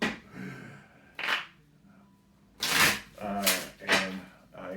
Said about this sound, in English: And I gotta shuffle 5 times.